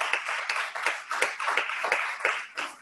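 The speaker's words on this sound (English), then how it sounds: "can you join me in giving a round of applause for all of our amazing speakers today?" A modest crowd claps for speakers at a voter registration and education event, with distinct, fairly regular claps in a rhythmic pattern rather than a dense roar, close and moderately loud.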